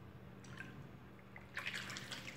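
Cooking oil poured for homemade bar soap made with papaya leaves, first faint drips, then a louder splashing stream of liquid starting partway through, close and with no talk.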